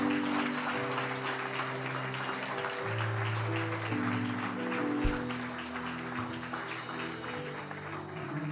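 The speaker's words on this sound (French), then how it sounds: "Aidez-moi à accueillir le prophète Paulin Mbombo. Soyez bénis. Acclame bien, bien, bien." A church congregation in Paris applauds to welcome Prophet Paulin Mbombo, continuous clapping spread beneath sustained keyboard music chords.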